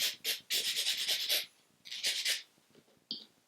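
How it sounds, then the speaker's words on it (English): Acrylic nail gently buffed with a Glitter Bells buffing block, giving close, quick back-and-forth scratchy rubbing strokes in short bursts separated by brief pauses. "I'm going to take a Glitter Bells buffing block and just lightly and gently buff the nail"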